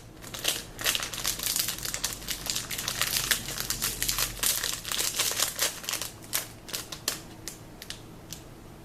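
A Glossybox beauty subscription box from December 2013 being opened, with continuous close, loud crinkling and rustling of plastic and paper wrapping and dense crackles throughout.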